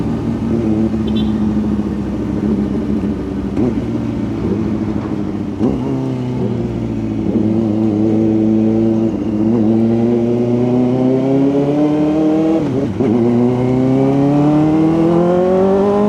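A Kawasaki ZX4RR inline-four motorcycle revs and accelerates hard close by, its rising whine sweeping upward through repeated gear changes, loud and steady with no talk.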